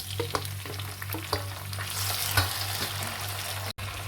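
Chopped tomatoes hit browned onions in a hot pan, setting off a steady sizzle with a few clinks and scrapes of stirring, close and moderately loud.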